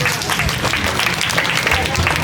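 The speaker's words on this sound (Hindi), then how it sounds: "तो आप अपने लिए जोरदार तालियां बजाएं अपने सम्मान में।" A crowd at a Jain Diksha Diwas ceremony in Deval Tand, Ranchi, bursts into loud applause. Close, vigorous clapping fills the short stretch with a few voices mixed in.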